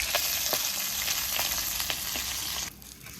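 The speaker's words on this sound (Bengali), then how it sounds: "মাছগুলো আমার ভাজা হয়ে গেছে, নামিয়ে নেবো।" Fish frying in hot oil gives a loud, steady sizzle with a few sharp stirring clicks. The sizzle drops away abruptly near the end.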